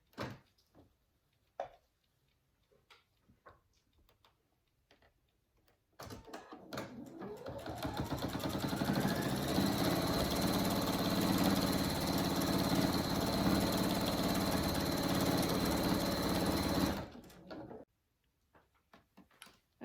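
A sewing machine stitches fabric for a three-tier hanging honeycomb hammock for animals, running steadily for about ten seconds with a clear motor whine, framed by quieter handling clicks and rustles before and after.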